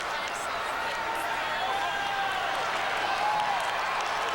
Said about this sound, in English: There's some of that spirited crowd, this time on the East Lansing side